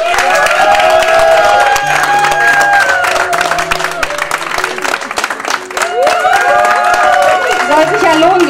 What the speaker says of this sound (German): Jetzt dürfen Sie alle klatschen.